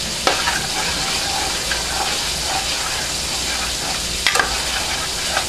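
Meat ends sizzle loudly in a hot pan for chilli, a constant dense frying hiss with a few sharp spatters and faint stirring.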